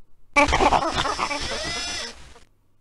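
A single drawn-out sheep bleat in the video game The Space Bar, loud and close, wavering for about two seconds before cutting off into silence.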